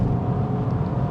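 A Suzuki Swift Sport Hybrid with a 1.4 Booster-Jet turbo engine and 129 horsepower accelerates in third gear, giving a steady, close engine drone with a hint of rising strain and no talk over it.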